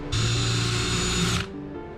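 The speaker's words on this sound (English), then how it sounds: "Swapped out the drill bit. Let's see if that's better, quicker, more efficient." A power drill with a swapped bit drills into a rivet on a school-bus conversion, a single loud high whine lasting over a second before cutting off, leaving a low hum.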